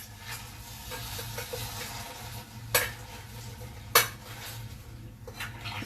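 Roasted tomatoes and caramelized onions mashed in a cooking pot, with repeated soft scraping and stirring strokes, two sharp clanks of a utensil against the metal, and a faint sizzle underneath.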